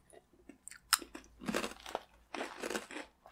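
Crunchy disc-shaped cookies from Hawaii being bitten and chewed close to the microphone, a sharp crack followed by bursts of crisp, crumbly chewing with short pauses between them.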